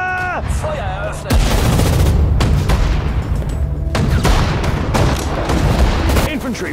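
Artillery and rifle fire in the WWII strategy game Sudden Strike 4, set at the Mareth Line battle of March 1943. Loud, dense gunshots and booming blasts go off in rapid, overlapping bursts, with short gaps between volleys.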